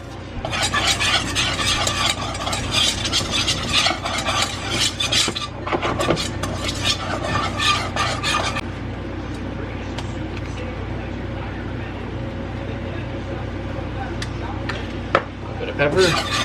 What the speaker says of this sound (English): Now I'm going to whisk in 3 tablespoons